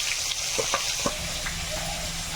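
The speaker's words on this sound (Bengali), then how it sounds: "এই মাছ দেওয়ার সঙ্গে সঙ্গে কিন্তু যে সব হয়ে এই যে গরম তেল পেয়ে একেবারে খুব ভালো করে ভেজে নেবে" Whole fish pieces frying in hot oil in a home kitchen, cooked for a fish curry: a steady, close crackling sizzle with a few sharper spits and pops throughout, and no talking.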